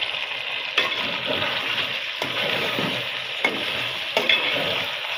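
Something stir-fries in a pan while making a winter rice-cake dish, a loud continuous sizzle broken by several sharp scraping strokes of the spatula at regular intervals.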